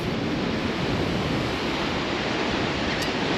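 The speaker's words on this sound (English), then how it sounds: "Ocean's a little rough this morning because of the wind." Rough ocean surf rolls onto a beach at Kill Devil Hills in the Outer Banks on a windy morning, a dense continuous roar mixed with wind buffeting the microphone.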